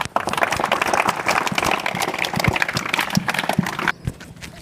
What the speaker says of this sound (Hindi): तो एक बार फिर से इनके लिए ताली बजा दो।